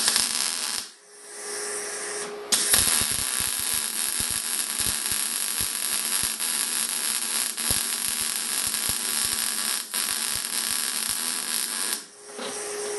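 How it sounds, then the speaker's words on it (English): MIG welding with an R-Tech Pro-MIG250 welder, fusing a 3 to 3.5 mm steel plate onto rusty metal: a steady close crackling buzz running for several seconds with brief pauses between runs and no talk. "We'll weld that straight onto the rust."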